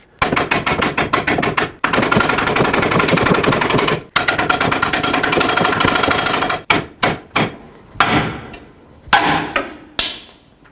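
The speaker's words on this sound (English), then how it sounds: "now I'm just going to go ahead and hammer this out of here" Rapid, loud metallic hammer blows in dense continuous runs, then slower separate strikes with ringing decay, close up, hammering out an upper ball joint on a 2001-07 Toyota Sequoia.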